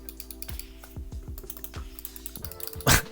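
A thin Logitech Bluetooth mouse gives a series of soft, quiet clicks in an irregular rhythm, close up, ending with a slightly louder rustle.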